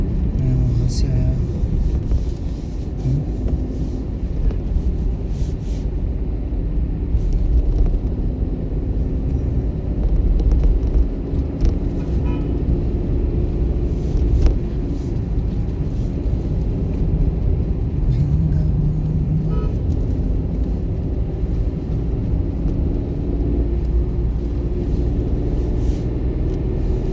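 A car engine rumbles steadily from inside the cabin during a driving lesson, a continuous low drone with road noise, while people talk over it.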